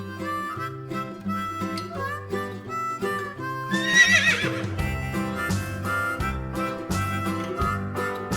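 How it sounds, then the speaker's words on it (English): A horse neighs, with a whinny rising midway, set over bouncy background music in a farm-animal sound sequence. "Horse."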